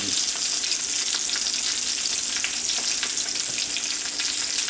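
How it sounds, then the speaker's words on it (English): Shrimp and crab cake searing in a hot pan, a loud, dense, continuous hiss of frying with fine crackles throughout, close up and without talking. "we get a nice sear here on the bottom"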